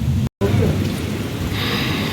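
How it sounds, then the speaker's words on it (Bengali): Heavy rain pours steadily with a low thunder rumble rolling underneath, the downpour continuing after a momentary cut near the start. "বিদ্যুৎ চমকাছে মেঘ ডাকছে"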